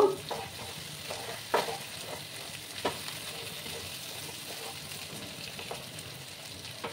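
Raw banana with turmeric powder fries in a pan, a steady close sizzle broken by several distinct spatula scrapes and taps at irregular intervals, with no talking.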